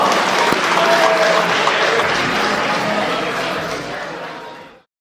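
Loud, sustained applause from the crowd at a K1 60 kg kickboxing bout at an NLF 6 event, steady dense clapping for about five seconds before cutting off abruptly.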